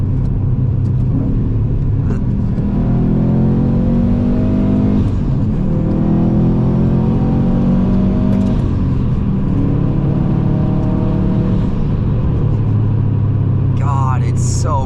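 A Porsche 996 Carrera engine revs while driving, a loud sustained growl whose pitch climbs and falls through several rev cycles over about fifteen seconds.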